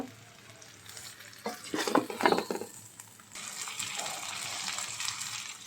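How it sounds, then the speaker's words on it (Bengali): Mango pickle being fried and stirred with spices in a pan, a steady close sizzle with scraping stir bursts in the middle, then continuing frying hiss. "এখন আমি আমের সাথে মশলাটা একটু ভুনিয়ে নিব"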